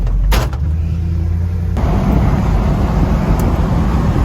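A Chevrolet Squarebody Blazer with a custom rollcage and suspension drives off, its engine rumbling loud and close after a door thunk, settling into a steady heavy road roar.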